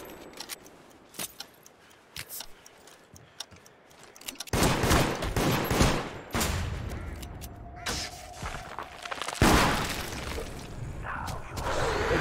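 Shotgun blasts in the multiplayer horror game Deceit, a few sharp bursts of gunfire amid scattered clattering in-game noise at moderate level.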